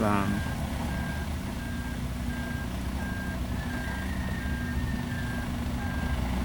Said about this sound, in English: we notice the truck staying a little close here, but has moved away